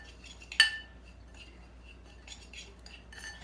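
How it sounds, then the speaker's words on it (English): A spoon mixing brown sugar and cinnamon in a bowl gives one sharp clink against the side, followed by soft, intermittent scraping and stirring. "Spoon here to mix this together. I'm just going to mix that brown sugar and cinnamon."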